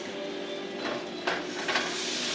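Apple pieces cook in browned butter in a pan over medium heat, giving a soft continuous sizzle with a couple of faint stirring clicks.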